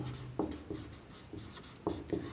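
Writing on a surface during a math lesson on real numbers, a few short scratchy strokes and taps close by against a faint steady background, with no talking.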